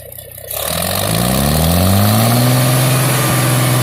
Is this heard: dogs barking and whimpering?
no